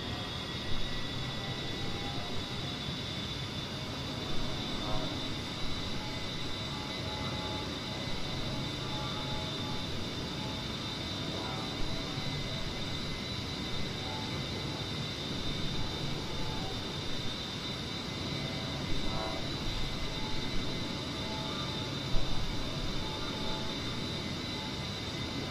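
Steady jet engine roar of an A-10C in level flight at 7,000 feet and 280 knots in the DCS World simulator, a continuous broadband drone with a faint high whine, no talk.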